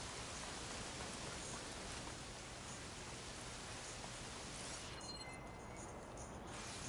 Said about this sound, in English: It's raining and we got a ways to go.